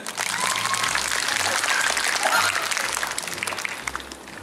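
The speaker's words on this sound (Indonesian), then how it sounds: "Baik, tepuk tangan semuanya." Students at a school flag ceremony marking Indonesian Independence Day applaud in a sustained, full crowd clap that holds steady and eases slightly toward the end.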